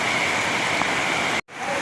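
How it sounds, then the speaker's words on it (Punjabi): Steady, dense roar of heavy rain pouring down, close and loud, cutting off abruptly near the end before resuming. "ਅੱਜ ਬਹੁਤ ਜ਼ਿਆਦਾ ਮੀਂਹ ਹੈ"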